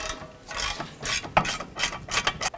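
A hand ratchet loosens a 15mm rear caliper bracket bolt on a 2000-2005 Buick LeSabre, giving several quick bursts of close, sharp clicking, with no talking.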